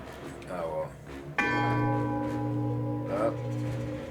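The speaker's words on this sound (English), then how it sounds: "Don't let them ring that fucking bell." A single bell struck in the video game The Banner Saga, with a sharp onset followed by a long sustained metallic ring that carries on for a few seconds over faint background talk.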